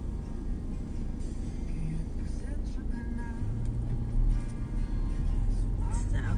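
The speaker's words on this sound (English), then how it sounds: "I'm stuck in the traffic." Road traffic in the Philippines with a steady low rumble of car and bus engines nearby, a few passing vehicles swelling briefly, continuous throughout with faint voices in the background.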